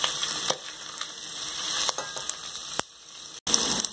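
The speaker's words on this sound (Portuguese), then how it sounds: "Agora eu vou inserir a calabresa junto, os dois fritarem" Bacon and calabresa sausage fry together in a pan for a quick pork feijoada, giving a close, steady crackling sizzle with sharp pops and spatters and a brief gap near the end.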